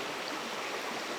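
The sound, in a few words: small creek flowing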